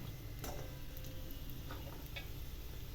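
Slivers of dried mango seed roast in ghee in a kadhai, a soft low sizzle with faint scraping and light ticks as they are slowly stirred, close and quiet.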